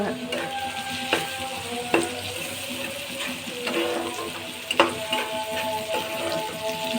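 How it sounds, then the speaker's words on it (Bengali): Onions and green chillies fry in a pan with a steady close sizzle, broken by a few sharp spatula scrapes and clinks, and no voices. "আমি আরও কিছুক্ষণ ভেজে নেব, যতক্ষণ না পর্যন্ত একটা সুন্দর ব্রাউন কালার না চলে আসতেছে"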